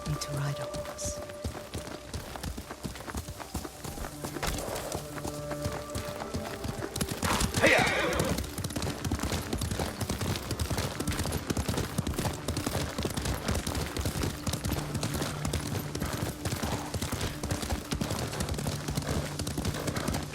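Hooves clip-clop steadily as a horse is ridden in the video game Ghost of Tsushima, with a whinny partway through, all under a continuous bed of game music and ambience.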